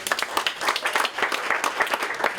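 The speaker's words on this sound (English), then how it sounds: "Hand of applause for Phil." Audience applause at a talk on Long Island modern architecture, a dense run of many hands clapping at close range, steady and fairly loud throughout with no voices.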